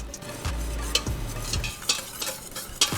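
A mixture is stirred in a pan so it melts in for a confit burger, with close, rhythmic scraping strokes over a faint sizzle.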